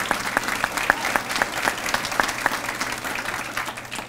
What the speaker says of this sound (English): We'll give each one of these an applause as we do it.